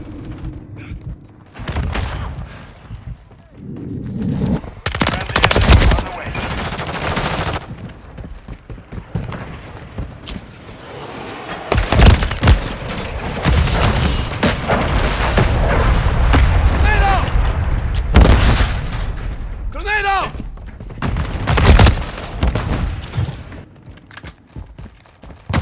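Call of Duty Modern Warfare 3 multiplayer on the Terminal map: bursts of gunfire and heavy booming explosions come in loud, irregular clusters, mixed with mechanical clatter and shouted soldier callouts.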